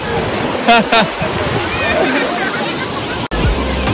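A sea wave washes in at Pirwadi beach, water sloshing and surging loudly close by, with voices shouting over the churning splash.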